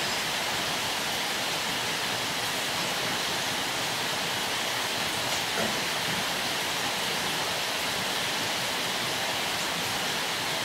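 Water poured into a hot frying pan while cooking, giving a loud, steady broadband hiss and sizzle that holds evenly for about ten seconds with no pauses.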